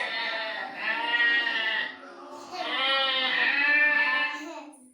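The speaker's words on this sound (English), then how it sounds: "The sheep says." A recorded sheep bleats twice in quavering, wavering calls, near and fairly loud, with a short pause between the bleats and no voices.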